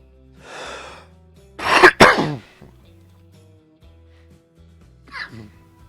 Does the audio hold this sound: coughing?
yes